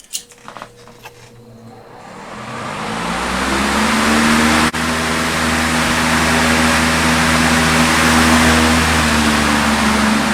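A Lakewood HV18 fan with a 2.4 amp Macmillan motor switched on at high speed, winding up over a few seconds from a clunk into a steady, loud whooshing airflow with a low motor hum.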